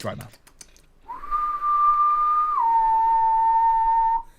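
A person whistles a long steady note that drops to a lower pitch and holds, imitating the whistles heard in the woods in The Walking Dead, loud and close after a brief moment of faint talk.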